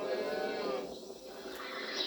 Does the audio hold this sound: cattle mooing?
yes